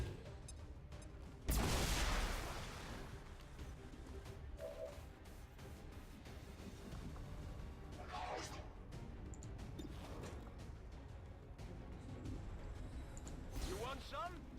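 One heavy grenade explosion in the tactical strategy game XCOM 2, a sudden loud boom that rolls off over a few seconds, followed by quieter game sounds and scattered smaller impacts, with voices talking in the background.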